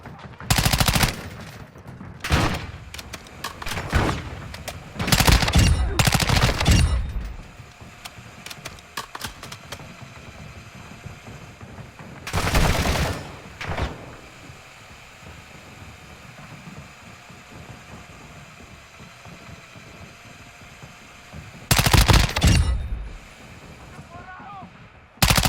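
Bursts of gunfire in Call of Duty, loud clusters of rapid shots and heavy blasts separated by quieter stretches of distant crackling fire and engine rumble.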